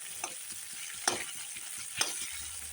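Chicken pieces frying in a pan with salt and spices, a faint, steady sizzle with a few sharp clinks of a utensil against the pan.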